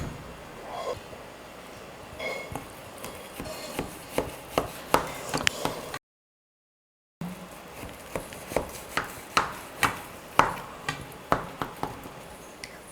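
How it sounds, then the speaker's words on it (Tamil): A knife cuts Mysore pak sweet into pieces on a hard surface, making a series of short sharp chopping taps in an uneven rhythm that quicken in spells, with a brief gap in the middle. "இப்போ இதே மாதிரி இன்னொரு பக்கமும் நம்ம வந்து கட் பண்ணி எடுத்துக்கலாம்."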